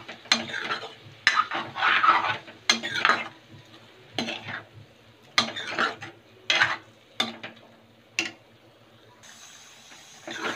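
Masala paste being stirred into bottle gourd (lauki) in a pan, a series of scraping, clinking spoon strokes against metal with a light sizzle, repeated in irregular bursts and close by.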